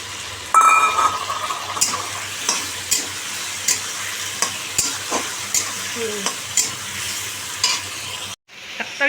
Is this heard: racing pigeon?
no